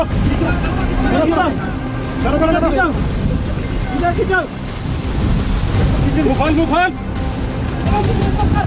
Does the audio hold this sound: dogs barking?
no